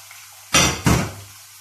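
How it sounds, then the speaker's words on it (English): Chopped tomatoes hitting a hot pan, two sharp bursts of sizzle in quick succession that ease into a faint fading hiss, close and otherwise quiet. "Now I add the tomato, the already chopped tomatoes."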